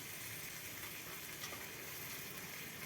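Boiled water is poured into a frying magur fish curry with kakrol leaves, giving a steady, fairly quiet hiss and sizzle that holds evenly throughout.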